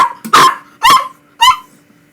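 A dog gives three loud, close barks with a rough, growly edge, spaced about half a second apart, with a faint steady hum underneath and no voices.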